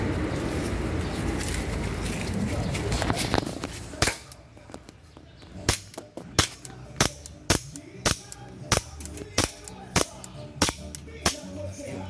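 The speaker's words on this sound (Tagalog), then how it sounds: "Test fire." A CZ Shadow 2 pistol test-fired at a range, a string of sharp, evenly spaced shots popping out one after another after some muffled handling and background noise.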